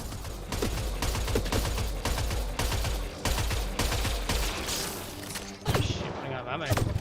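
Gunfire and sniper shots from Mass Effect Andromeda crack in dense repeated bursts, loud and close, with a heavier boom near the end; a voice speaks over the shooting.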